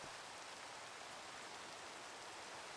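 Rain falling in the video game Minecraft: a steady, even hiss of rainfall that carries on without a break, with no talk over it.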